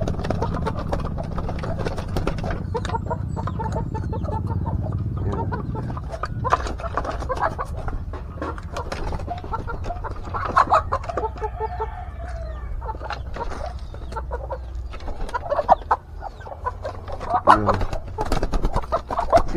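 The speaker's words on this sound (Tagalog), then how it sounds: "So papakainin mo natin yung manok mga kabisdak." Flock of chickens at feeding time, with clucking and rooster crowing in a rural yard, a steady busy chorus of nearby birds with occasional sharper calls and some background noise.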